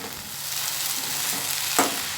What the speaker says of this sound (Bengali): তারপর ডালিয়াটা দিয়ে আবারও খানিকক্ষণ নাড়াচাড়া করব, কারণ ডালিয়াটাও আরেকটু সাঁতলে নিতে হবে।